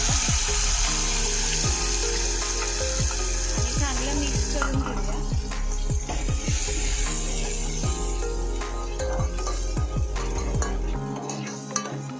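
A constant sizzle of spice paste, tomato and coriander powder frying in hot oil fills the clip, with scattered clinks of a spoon stirring against the pan.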